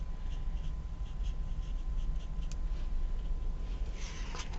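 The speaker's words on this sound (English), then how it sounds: "my brush is that dry that you can hear it like dragging on the paper." A dry paintbrush drags across paper while stamped cards are being colored, a soft continuous scratchy rasp with a few faint bumps, steady and close throughout.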